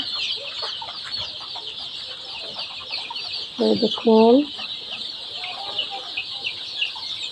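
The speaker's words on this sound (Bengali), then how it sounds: "মুরগি খাচ্ছে কেমন করে।" Four-day-old chicks feeding on a home poultry farm of about 1500 birds give a few short clucking calls near the middle, over a steady background hiss, with a brief spoken remark.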